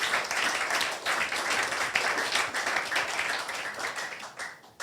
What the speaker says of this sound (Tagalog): Palakpakan natin ang Panginoon. Yung malakas na palakpak para sa Panginoon